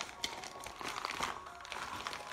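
A plastic bag from an SJCAM Legend camera accessory kit being opened and handled, giving continuous close crinkling and rustling with small crackling peaks throughout.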